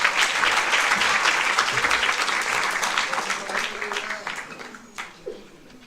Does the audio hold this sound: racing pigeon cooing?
no